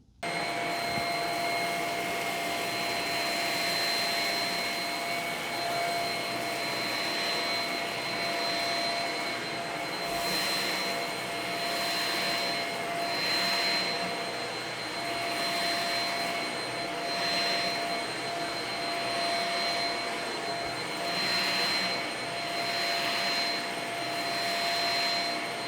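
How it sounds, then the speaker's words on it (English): A Shark Rocket HV301 vacuum cleaner runs continuously on carpet for the whole stretch, a steady, loud motor whine with a high tonal hum, its airflow surging slightly as it is pushed back and forth, with no talking. "Today I'm going to do a review on the Shark Rocket Vacuum Cleaner."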